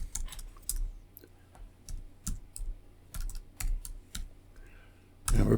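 Code is typed on a computer keyboard in irregular bursts of close, crisp key clicks separated by short pauses, ending in a louder clatter.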